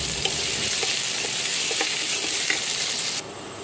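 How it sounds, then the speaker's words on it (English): Chopped onion, slit green chili and ginger saute in a pan with curry leaves, giving a continuous close, bright sizzle with small crackles that drops noticeably just before the end. "Now the onions are well sauteed."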